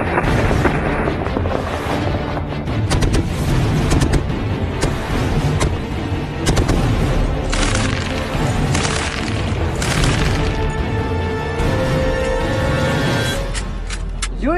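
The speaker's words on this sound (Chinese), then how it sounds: "所以考核刚开始，刘瑞佳就火力全开" A heavy machine gun mounted on a Mengshi assault vehicle fires during a military qualification test, producing continuous loud booming bursts with dense rumbling engine noise underneath, close and without pause.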